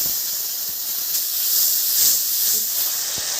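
Water poured into a hot pan while cooking sabu khichuri with ginger paste, salt and turmeric, giving a continuous loud hiss and sizzle that swells and eases slightly over a few seconds, with no voices.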